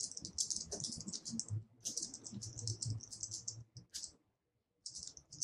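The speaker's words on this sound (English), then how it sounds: "So in line 2, type in the following." Fingers type code on a computer keyboard, a close, quiet stream of rapid key clicks with a short pause before the typing resumes.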